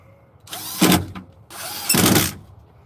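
A power drill driving screws while replacing a side view mirror on a 2013 E-150 whirs twice in close succession, each burst revving up and winding down, up close and loud.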